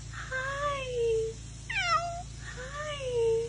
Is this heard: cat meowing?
yes